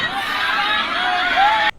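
A large crowd shouts together in a played-back recording, making a dense, loud roar of many voices that holds steady for under two seconds, then cuts off abruptly.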